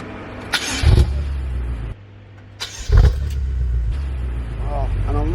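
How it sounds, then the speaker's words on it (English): A BMW M6 Competition starts up with two separate bursts of engine cranking and deep low rumble, loud and close, settling into a steady idle hum with a voice speaking over it. "we're just going to start the car up right now"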